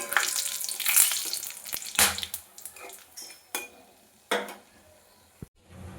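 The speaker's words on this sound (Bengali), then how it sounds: "এবার ওই তেলের মধ্যে দিয়ে দেবো লং এলাচ দারচিনি তেজপাতা আর শুকনো লঙ্কা" Cloves, cardamom, cinnamon, bay leaves and dried red chillies hit hot oil left from frying prawns, crackling and sizzling loudly at first, with clinking utensils and pan knocks as the frying settles.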